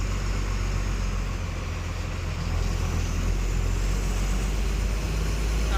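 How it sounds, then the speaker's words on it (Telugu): Heavy road traffic with trucks on a busy road between Apparaopeta and Mandapeta, a dense continuous engine rumble and roadway roar, loud and unbroken throughout with no speech. "బాగా ట్రాఫిక్ అయిపోయింది"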